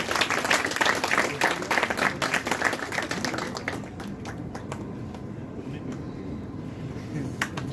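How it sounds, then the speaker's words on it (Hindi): A crowd applauds at a stage event, dense steady clapping for the first few seconds that thins out into scattered claps over a murmur of voices and room noise. "आपके सब साथियों के लिए तालियां बजाएं।"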